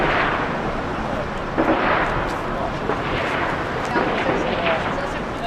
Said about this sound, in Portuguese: Começou o tiroteio de novo.